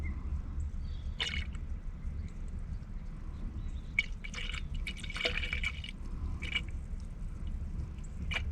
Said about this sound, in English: You see how consistent this is pouring in there?